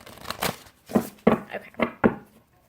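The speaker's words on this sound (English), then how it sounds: "One more shuffle." Tarot cards being shuffled by hand in a few crisp riffling bursts, close and distinct, each rustle separated by brief pauses.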